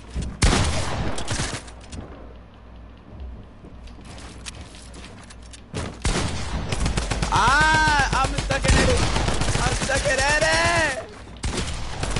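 Video game gunfire rattles out in loud bursts of rapid fusillade, with a quieter stretch between volleys and layered shots and engine-like tones during the later bursts, and no voices.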